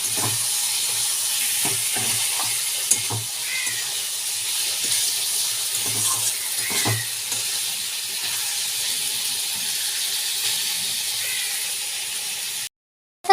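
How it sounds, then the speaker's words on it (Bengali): Banana flower being sautéed and stirred with spices in a pan, a steady soft sizzle and hiss with occasional scraping stirs and clinks, close and even throughout before cutting off near the end. "দিয়ে মোচা দিয়ে এবার আরও ভালো করে কষব"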